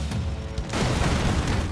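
Rapid gunfire and booming explosions from the Broforce video game, a dense continuous burst of shots and blasts that intensifies and stays loud through the second half with no talking.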